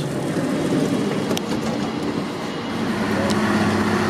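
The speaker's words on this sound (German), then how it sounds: "So, das ist jetzt der erste Zug, der fährt." A German regional train, the RE56 to Nordhausen, rumbles steadily and loudly past at close range, with continuous wheel-on-rail noise and faint clicks, no voices over it.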